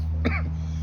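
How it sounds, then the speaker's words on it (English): One short, harsh cough or throat-clearing from someone smoking a cigar, close and brief over a steady low background hum. "You not coughing from your cigar?"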